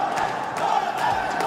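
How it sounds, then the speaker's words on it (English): An arena crowd in Paris chants and roars at the PUBG Mobile World Cup 2026 grand finals, a dense, loud, sustained wall of voices rising and falling in rhythmic waves. "The ferocious crowd here in France giving them their energy. Chant after chant"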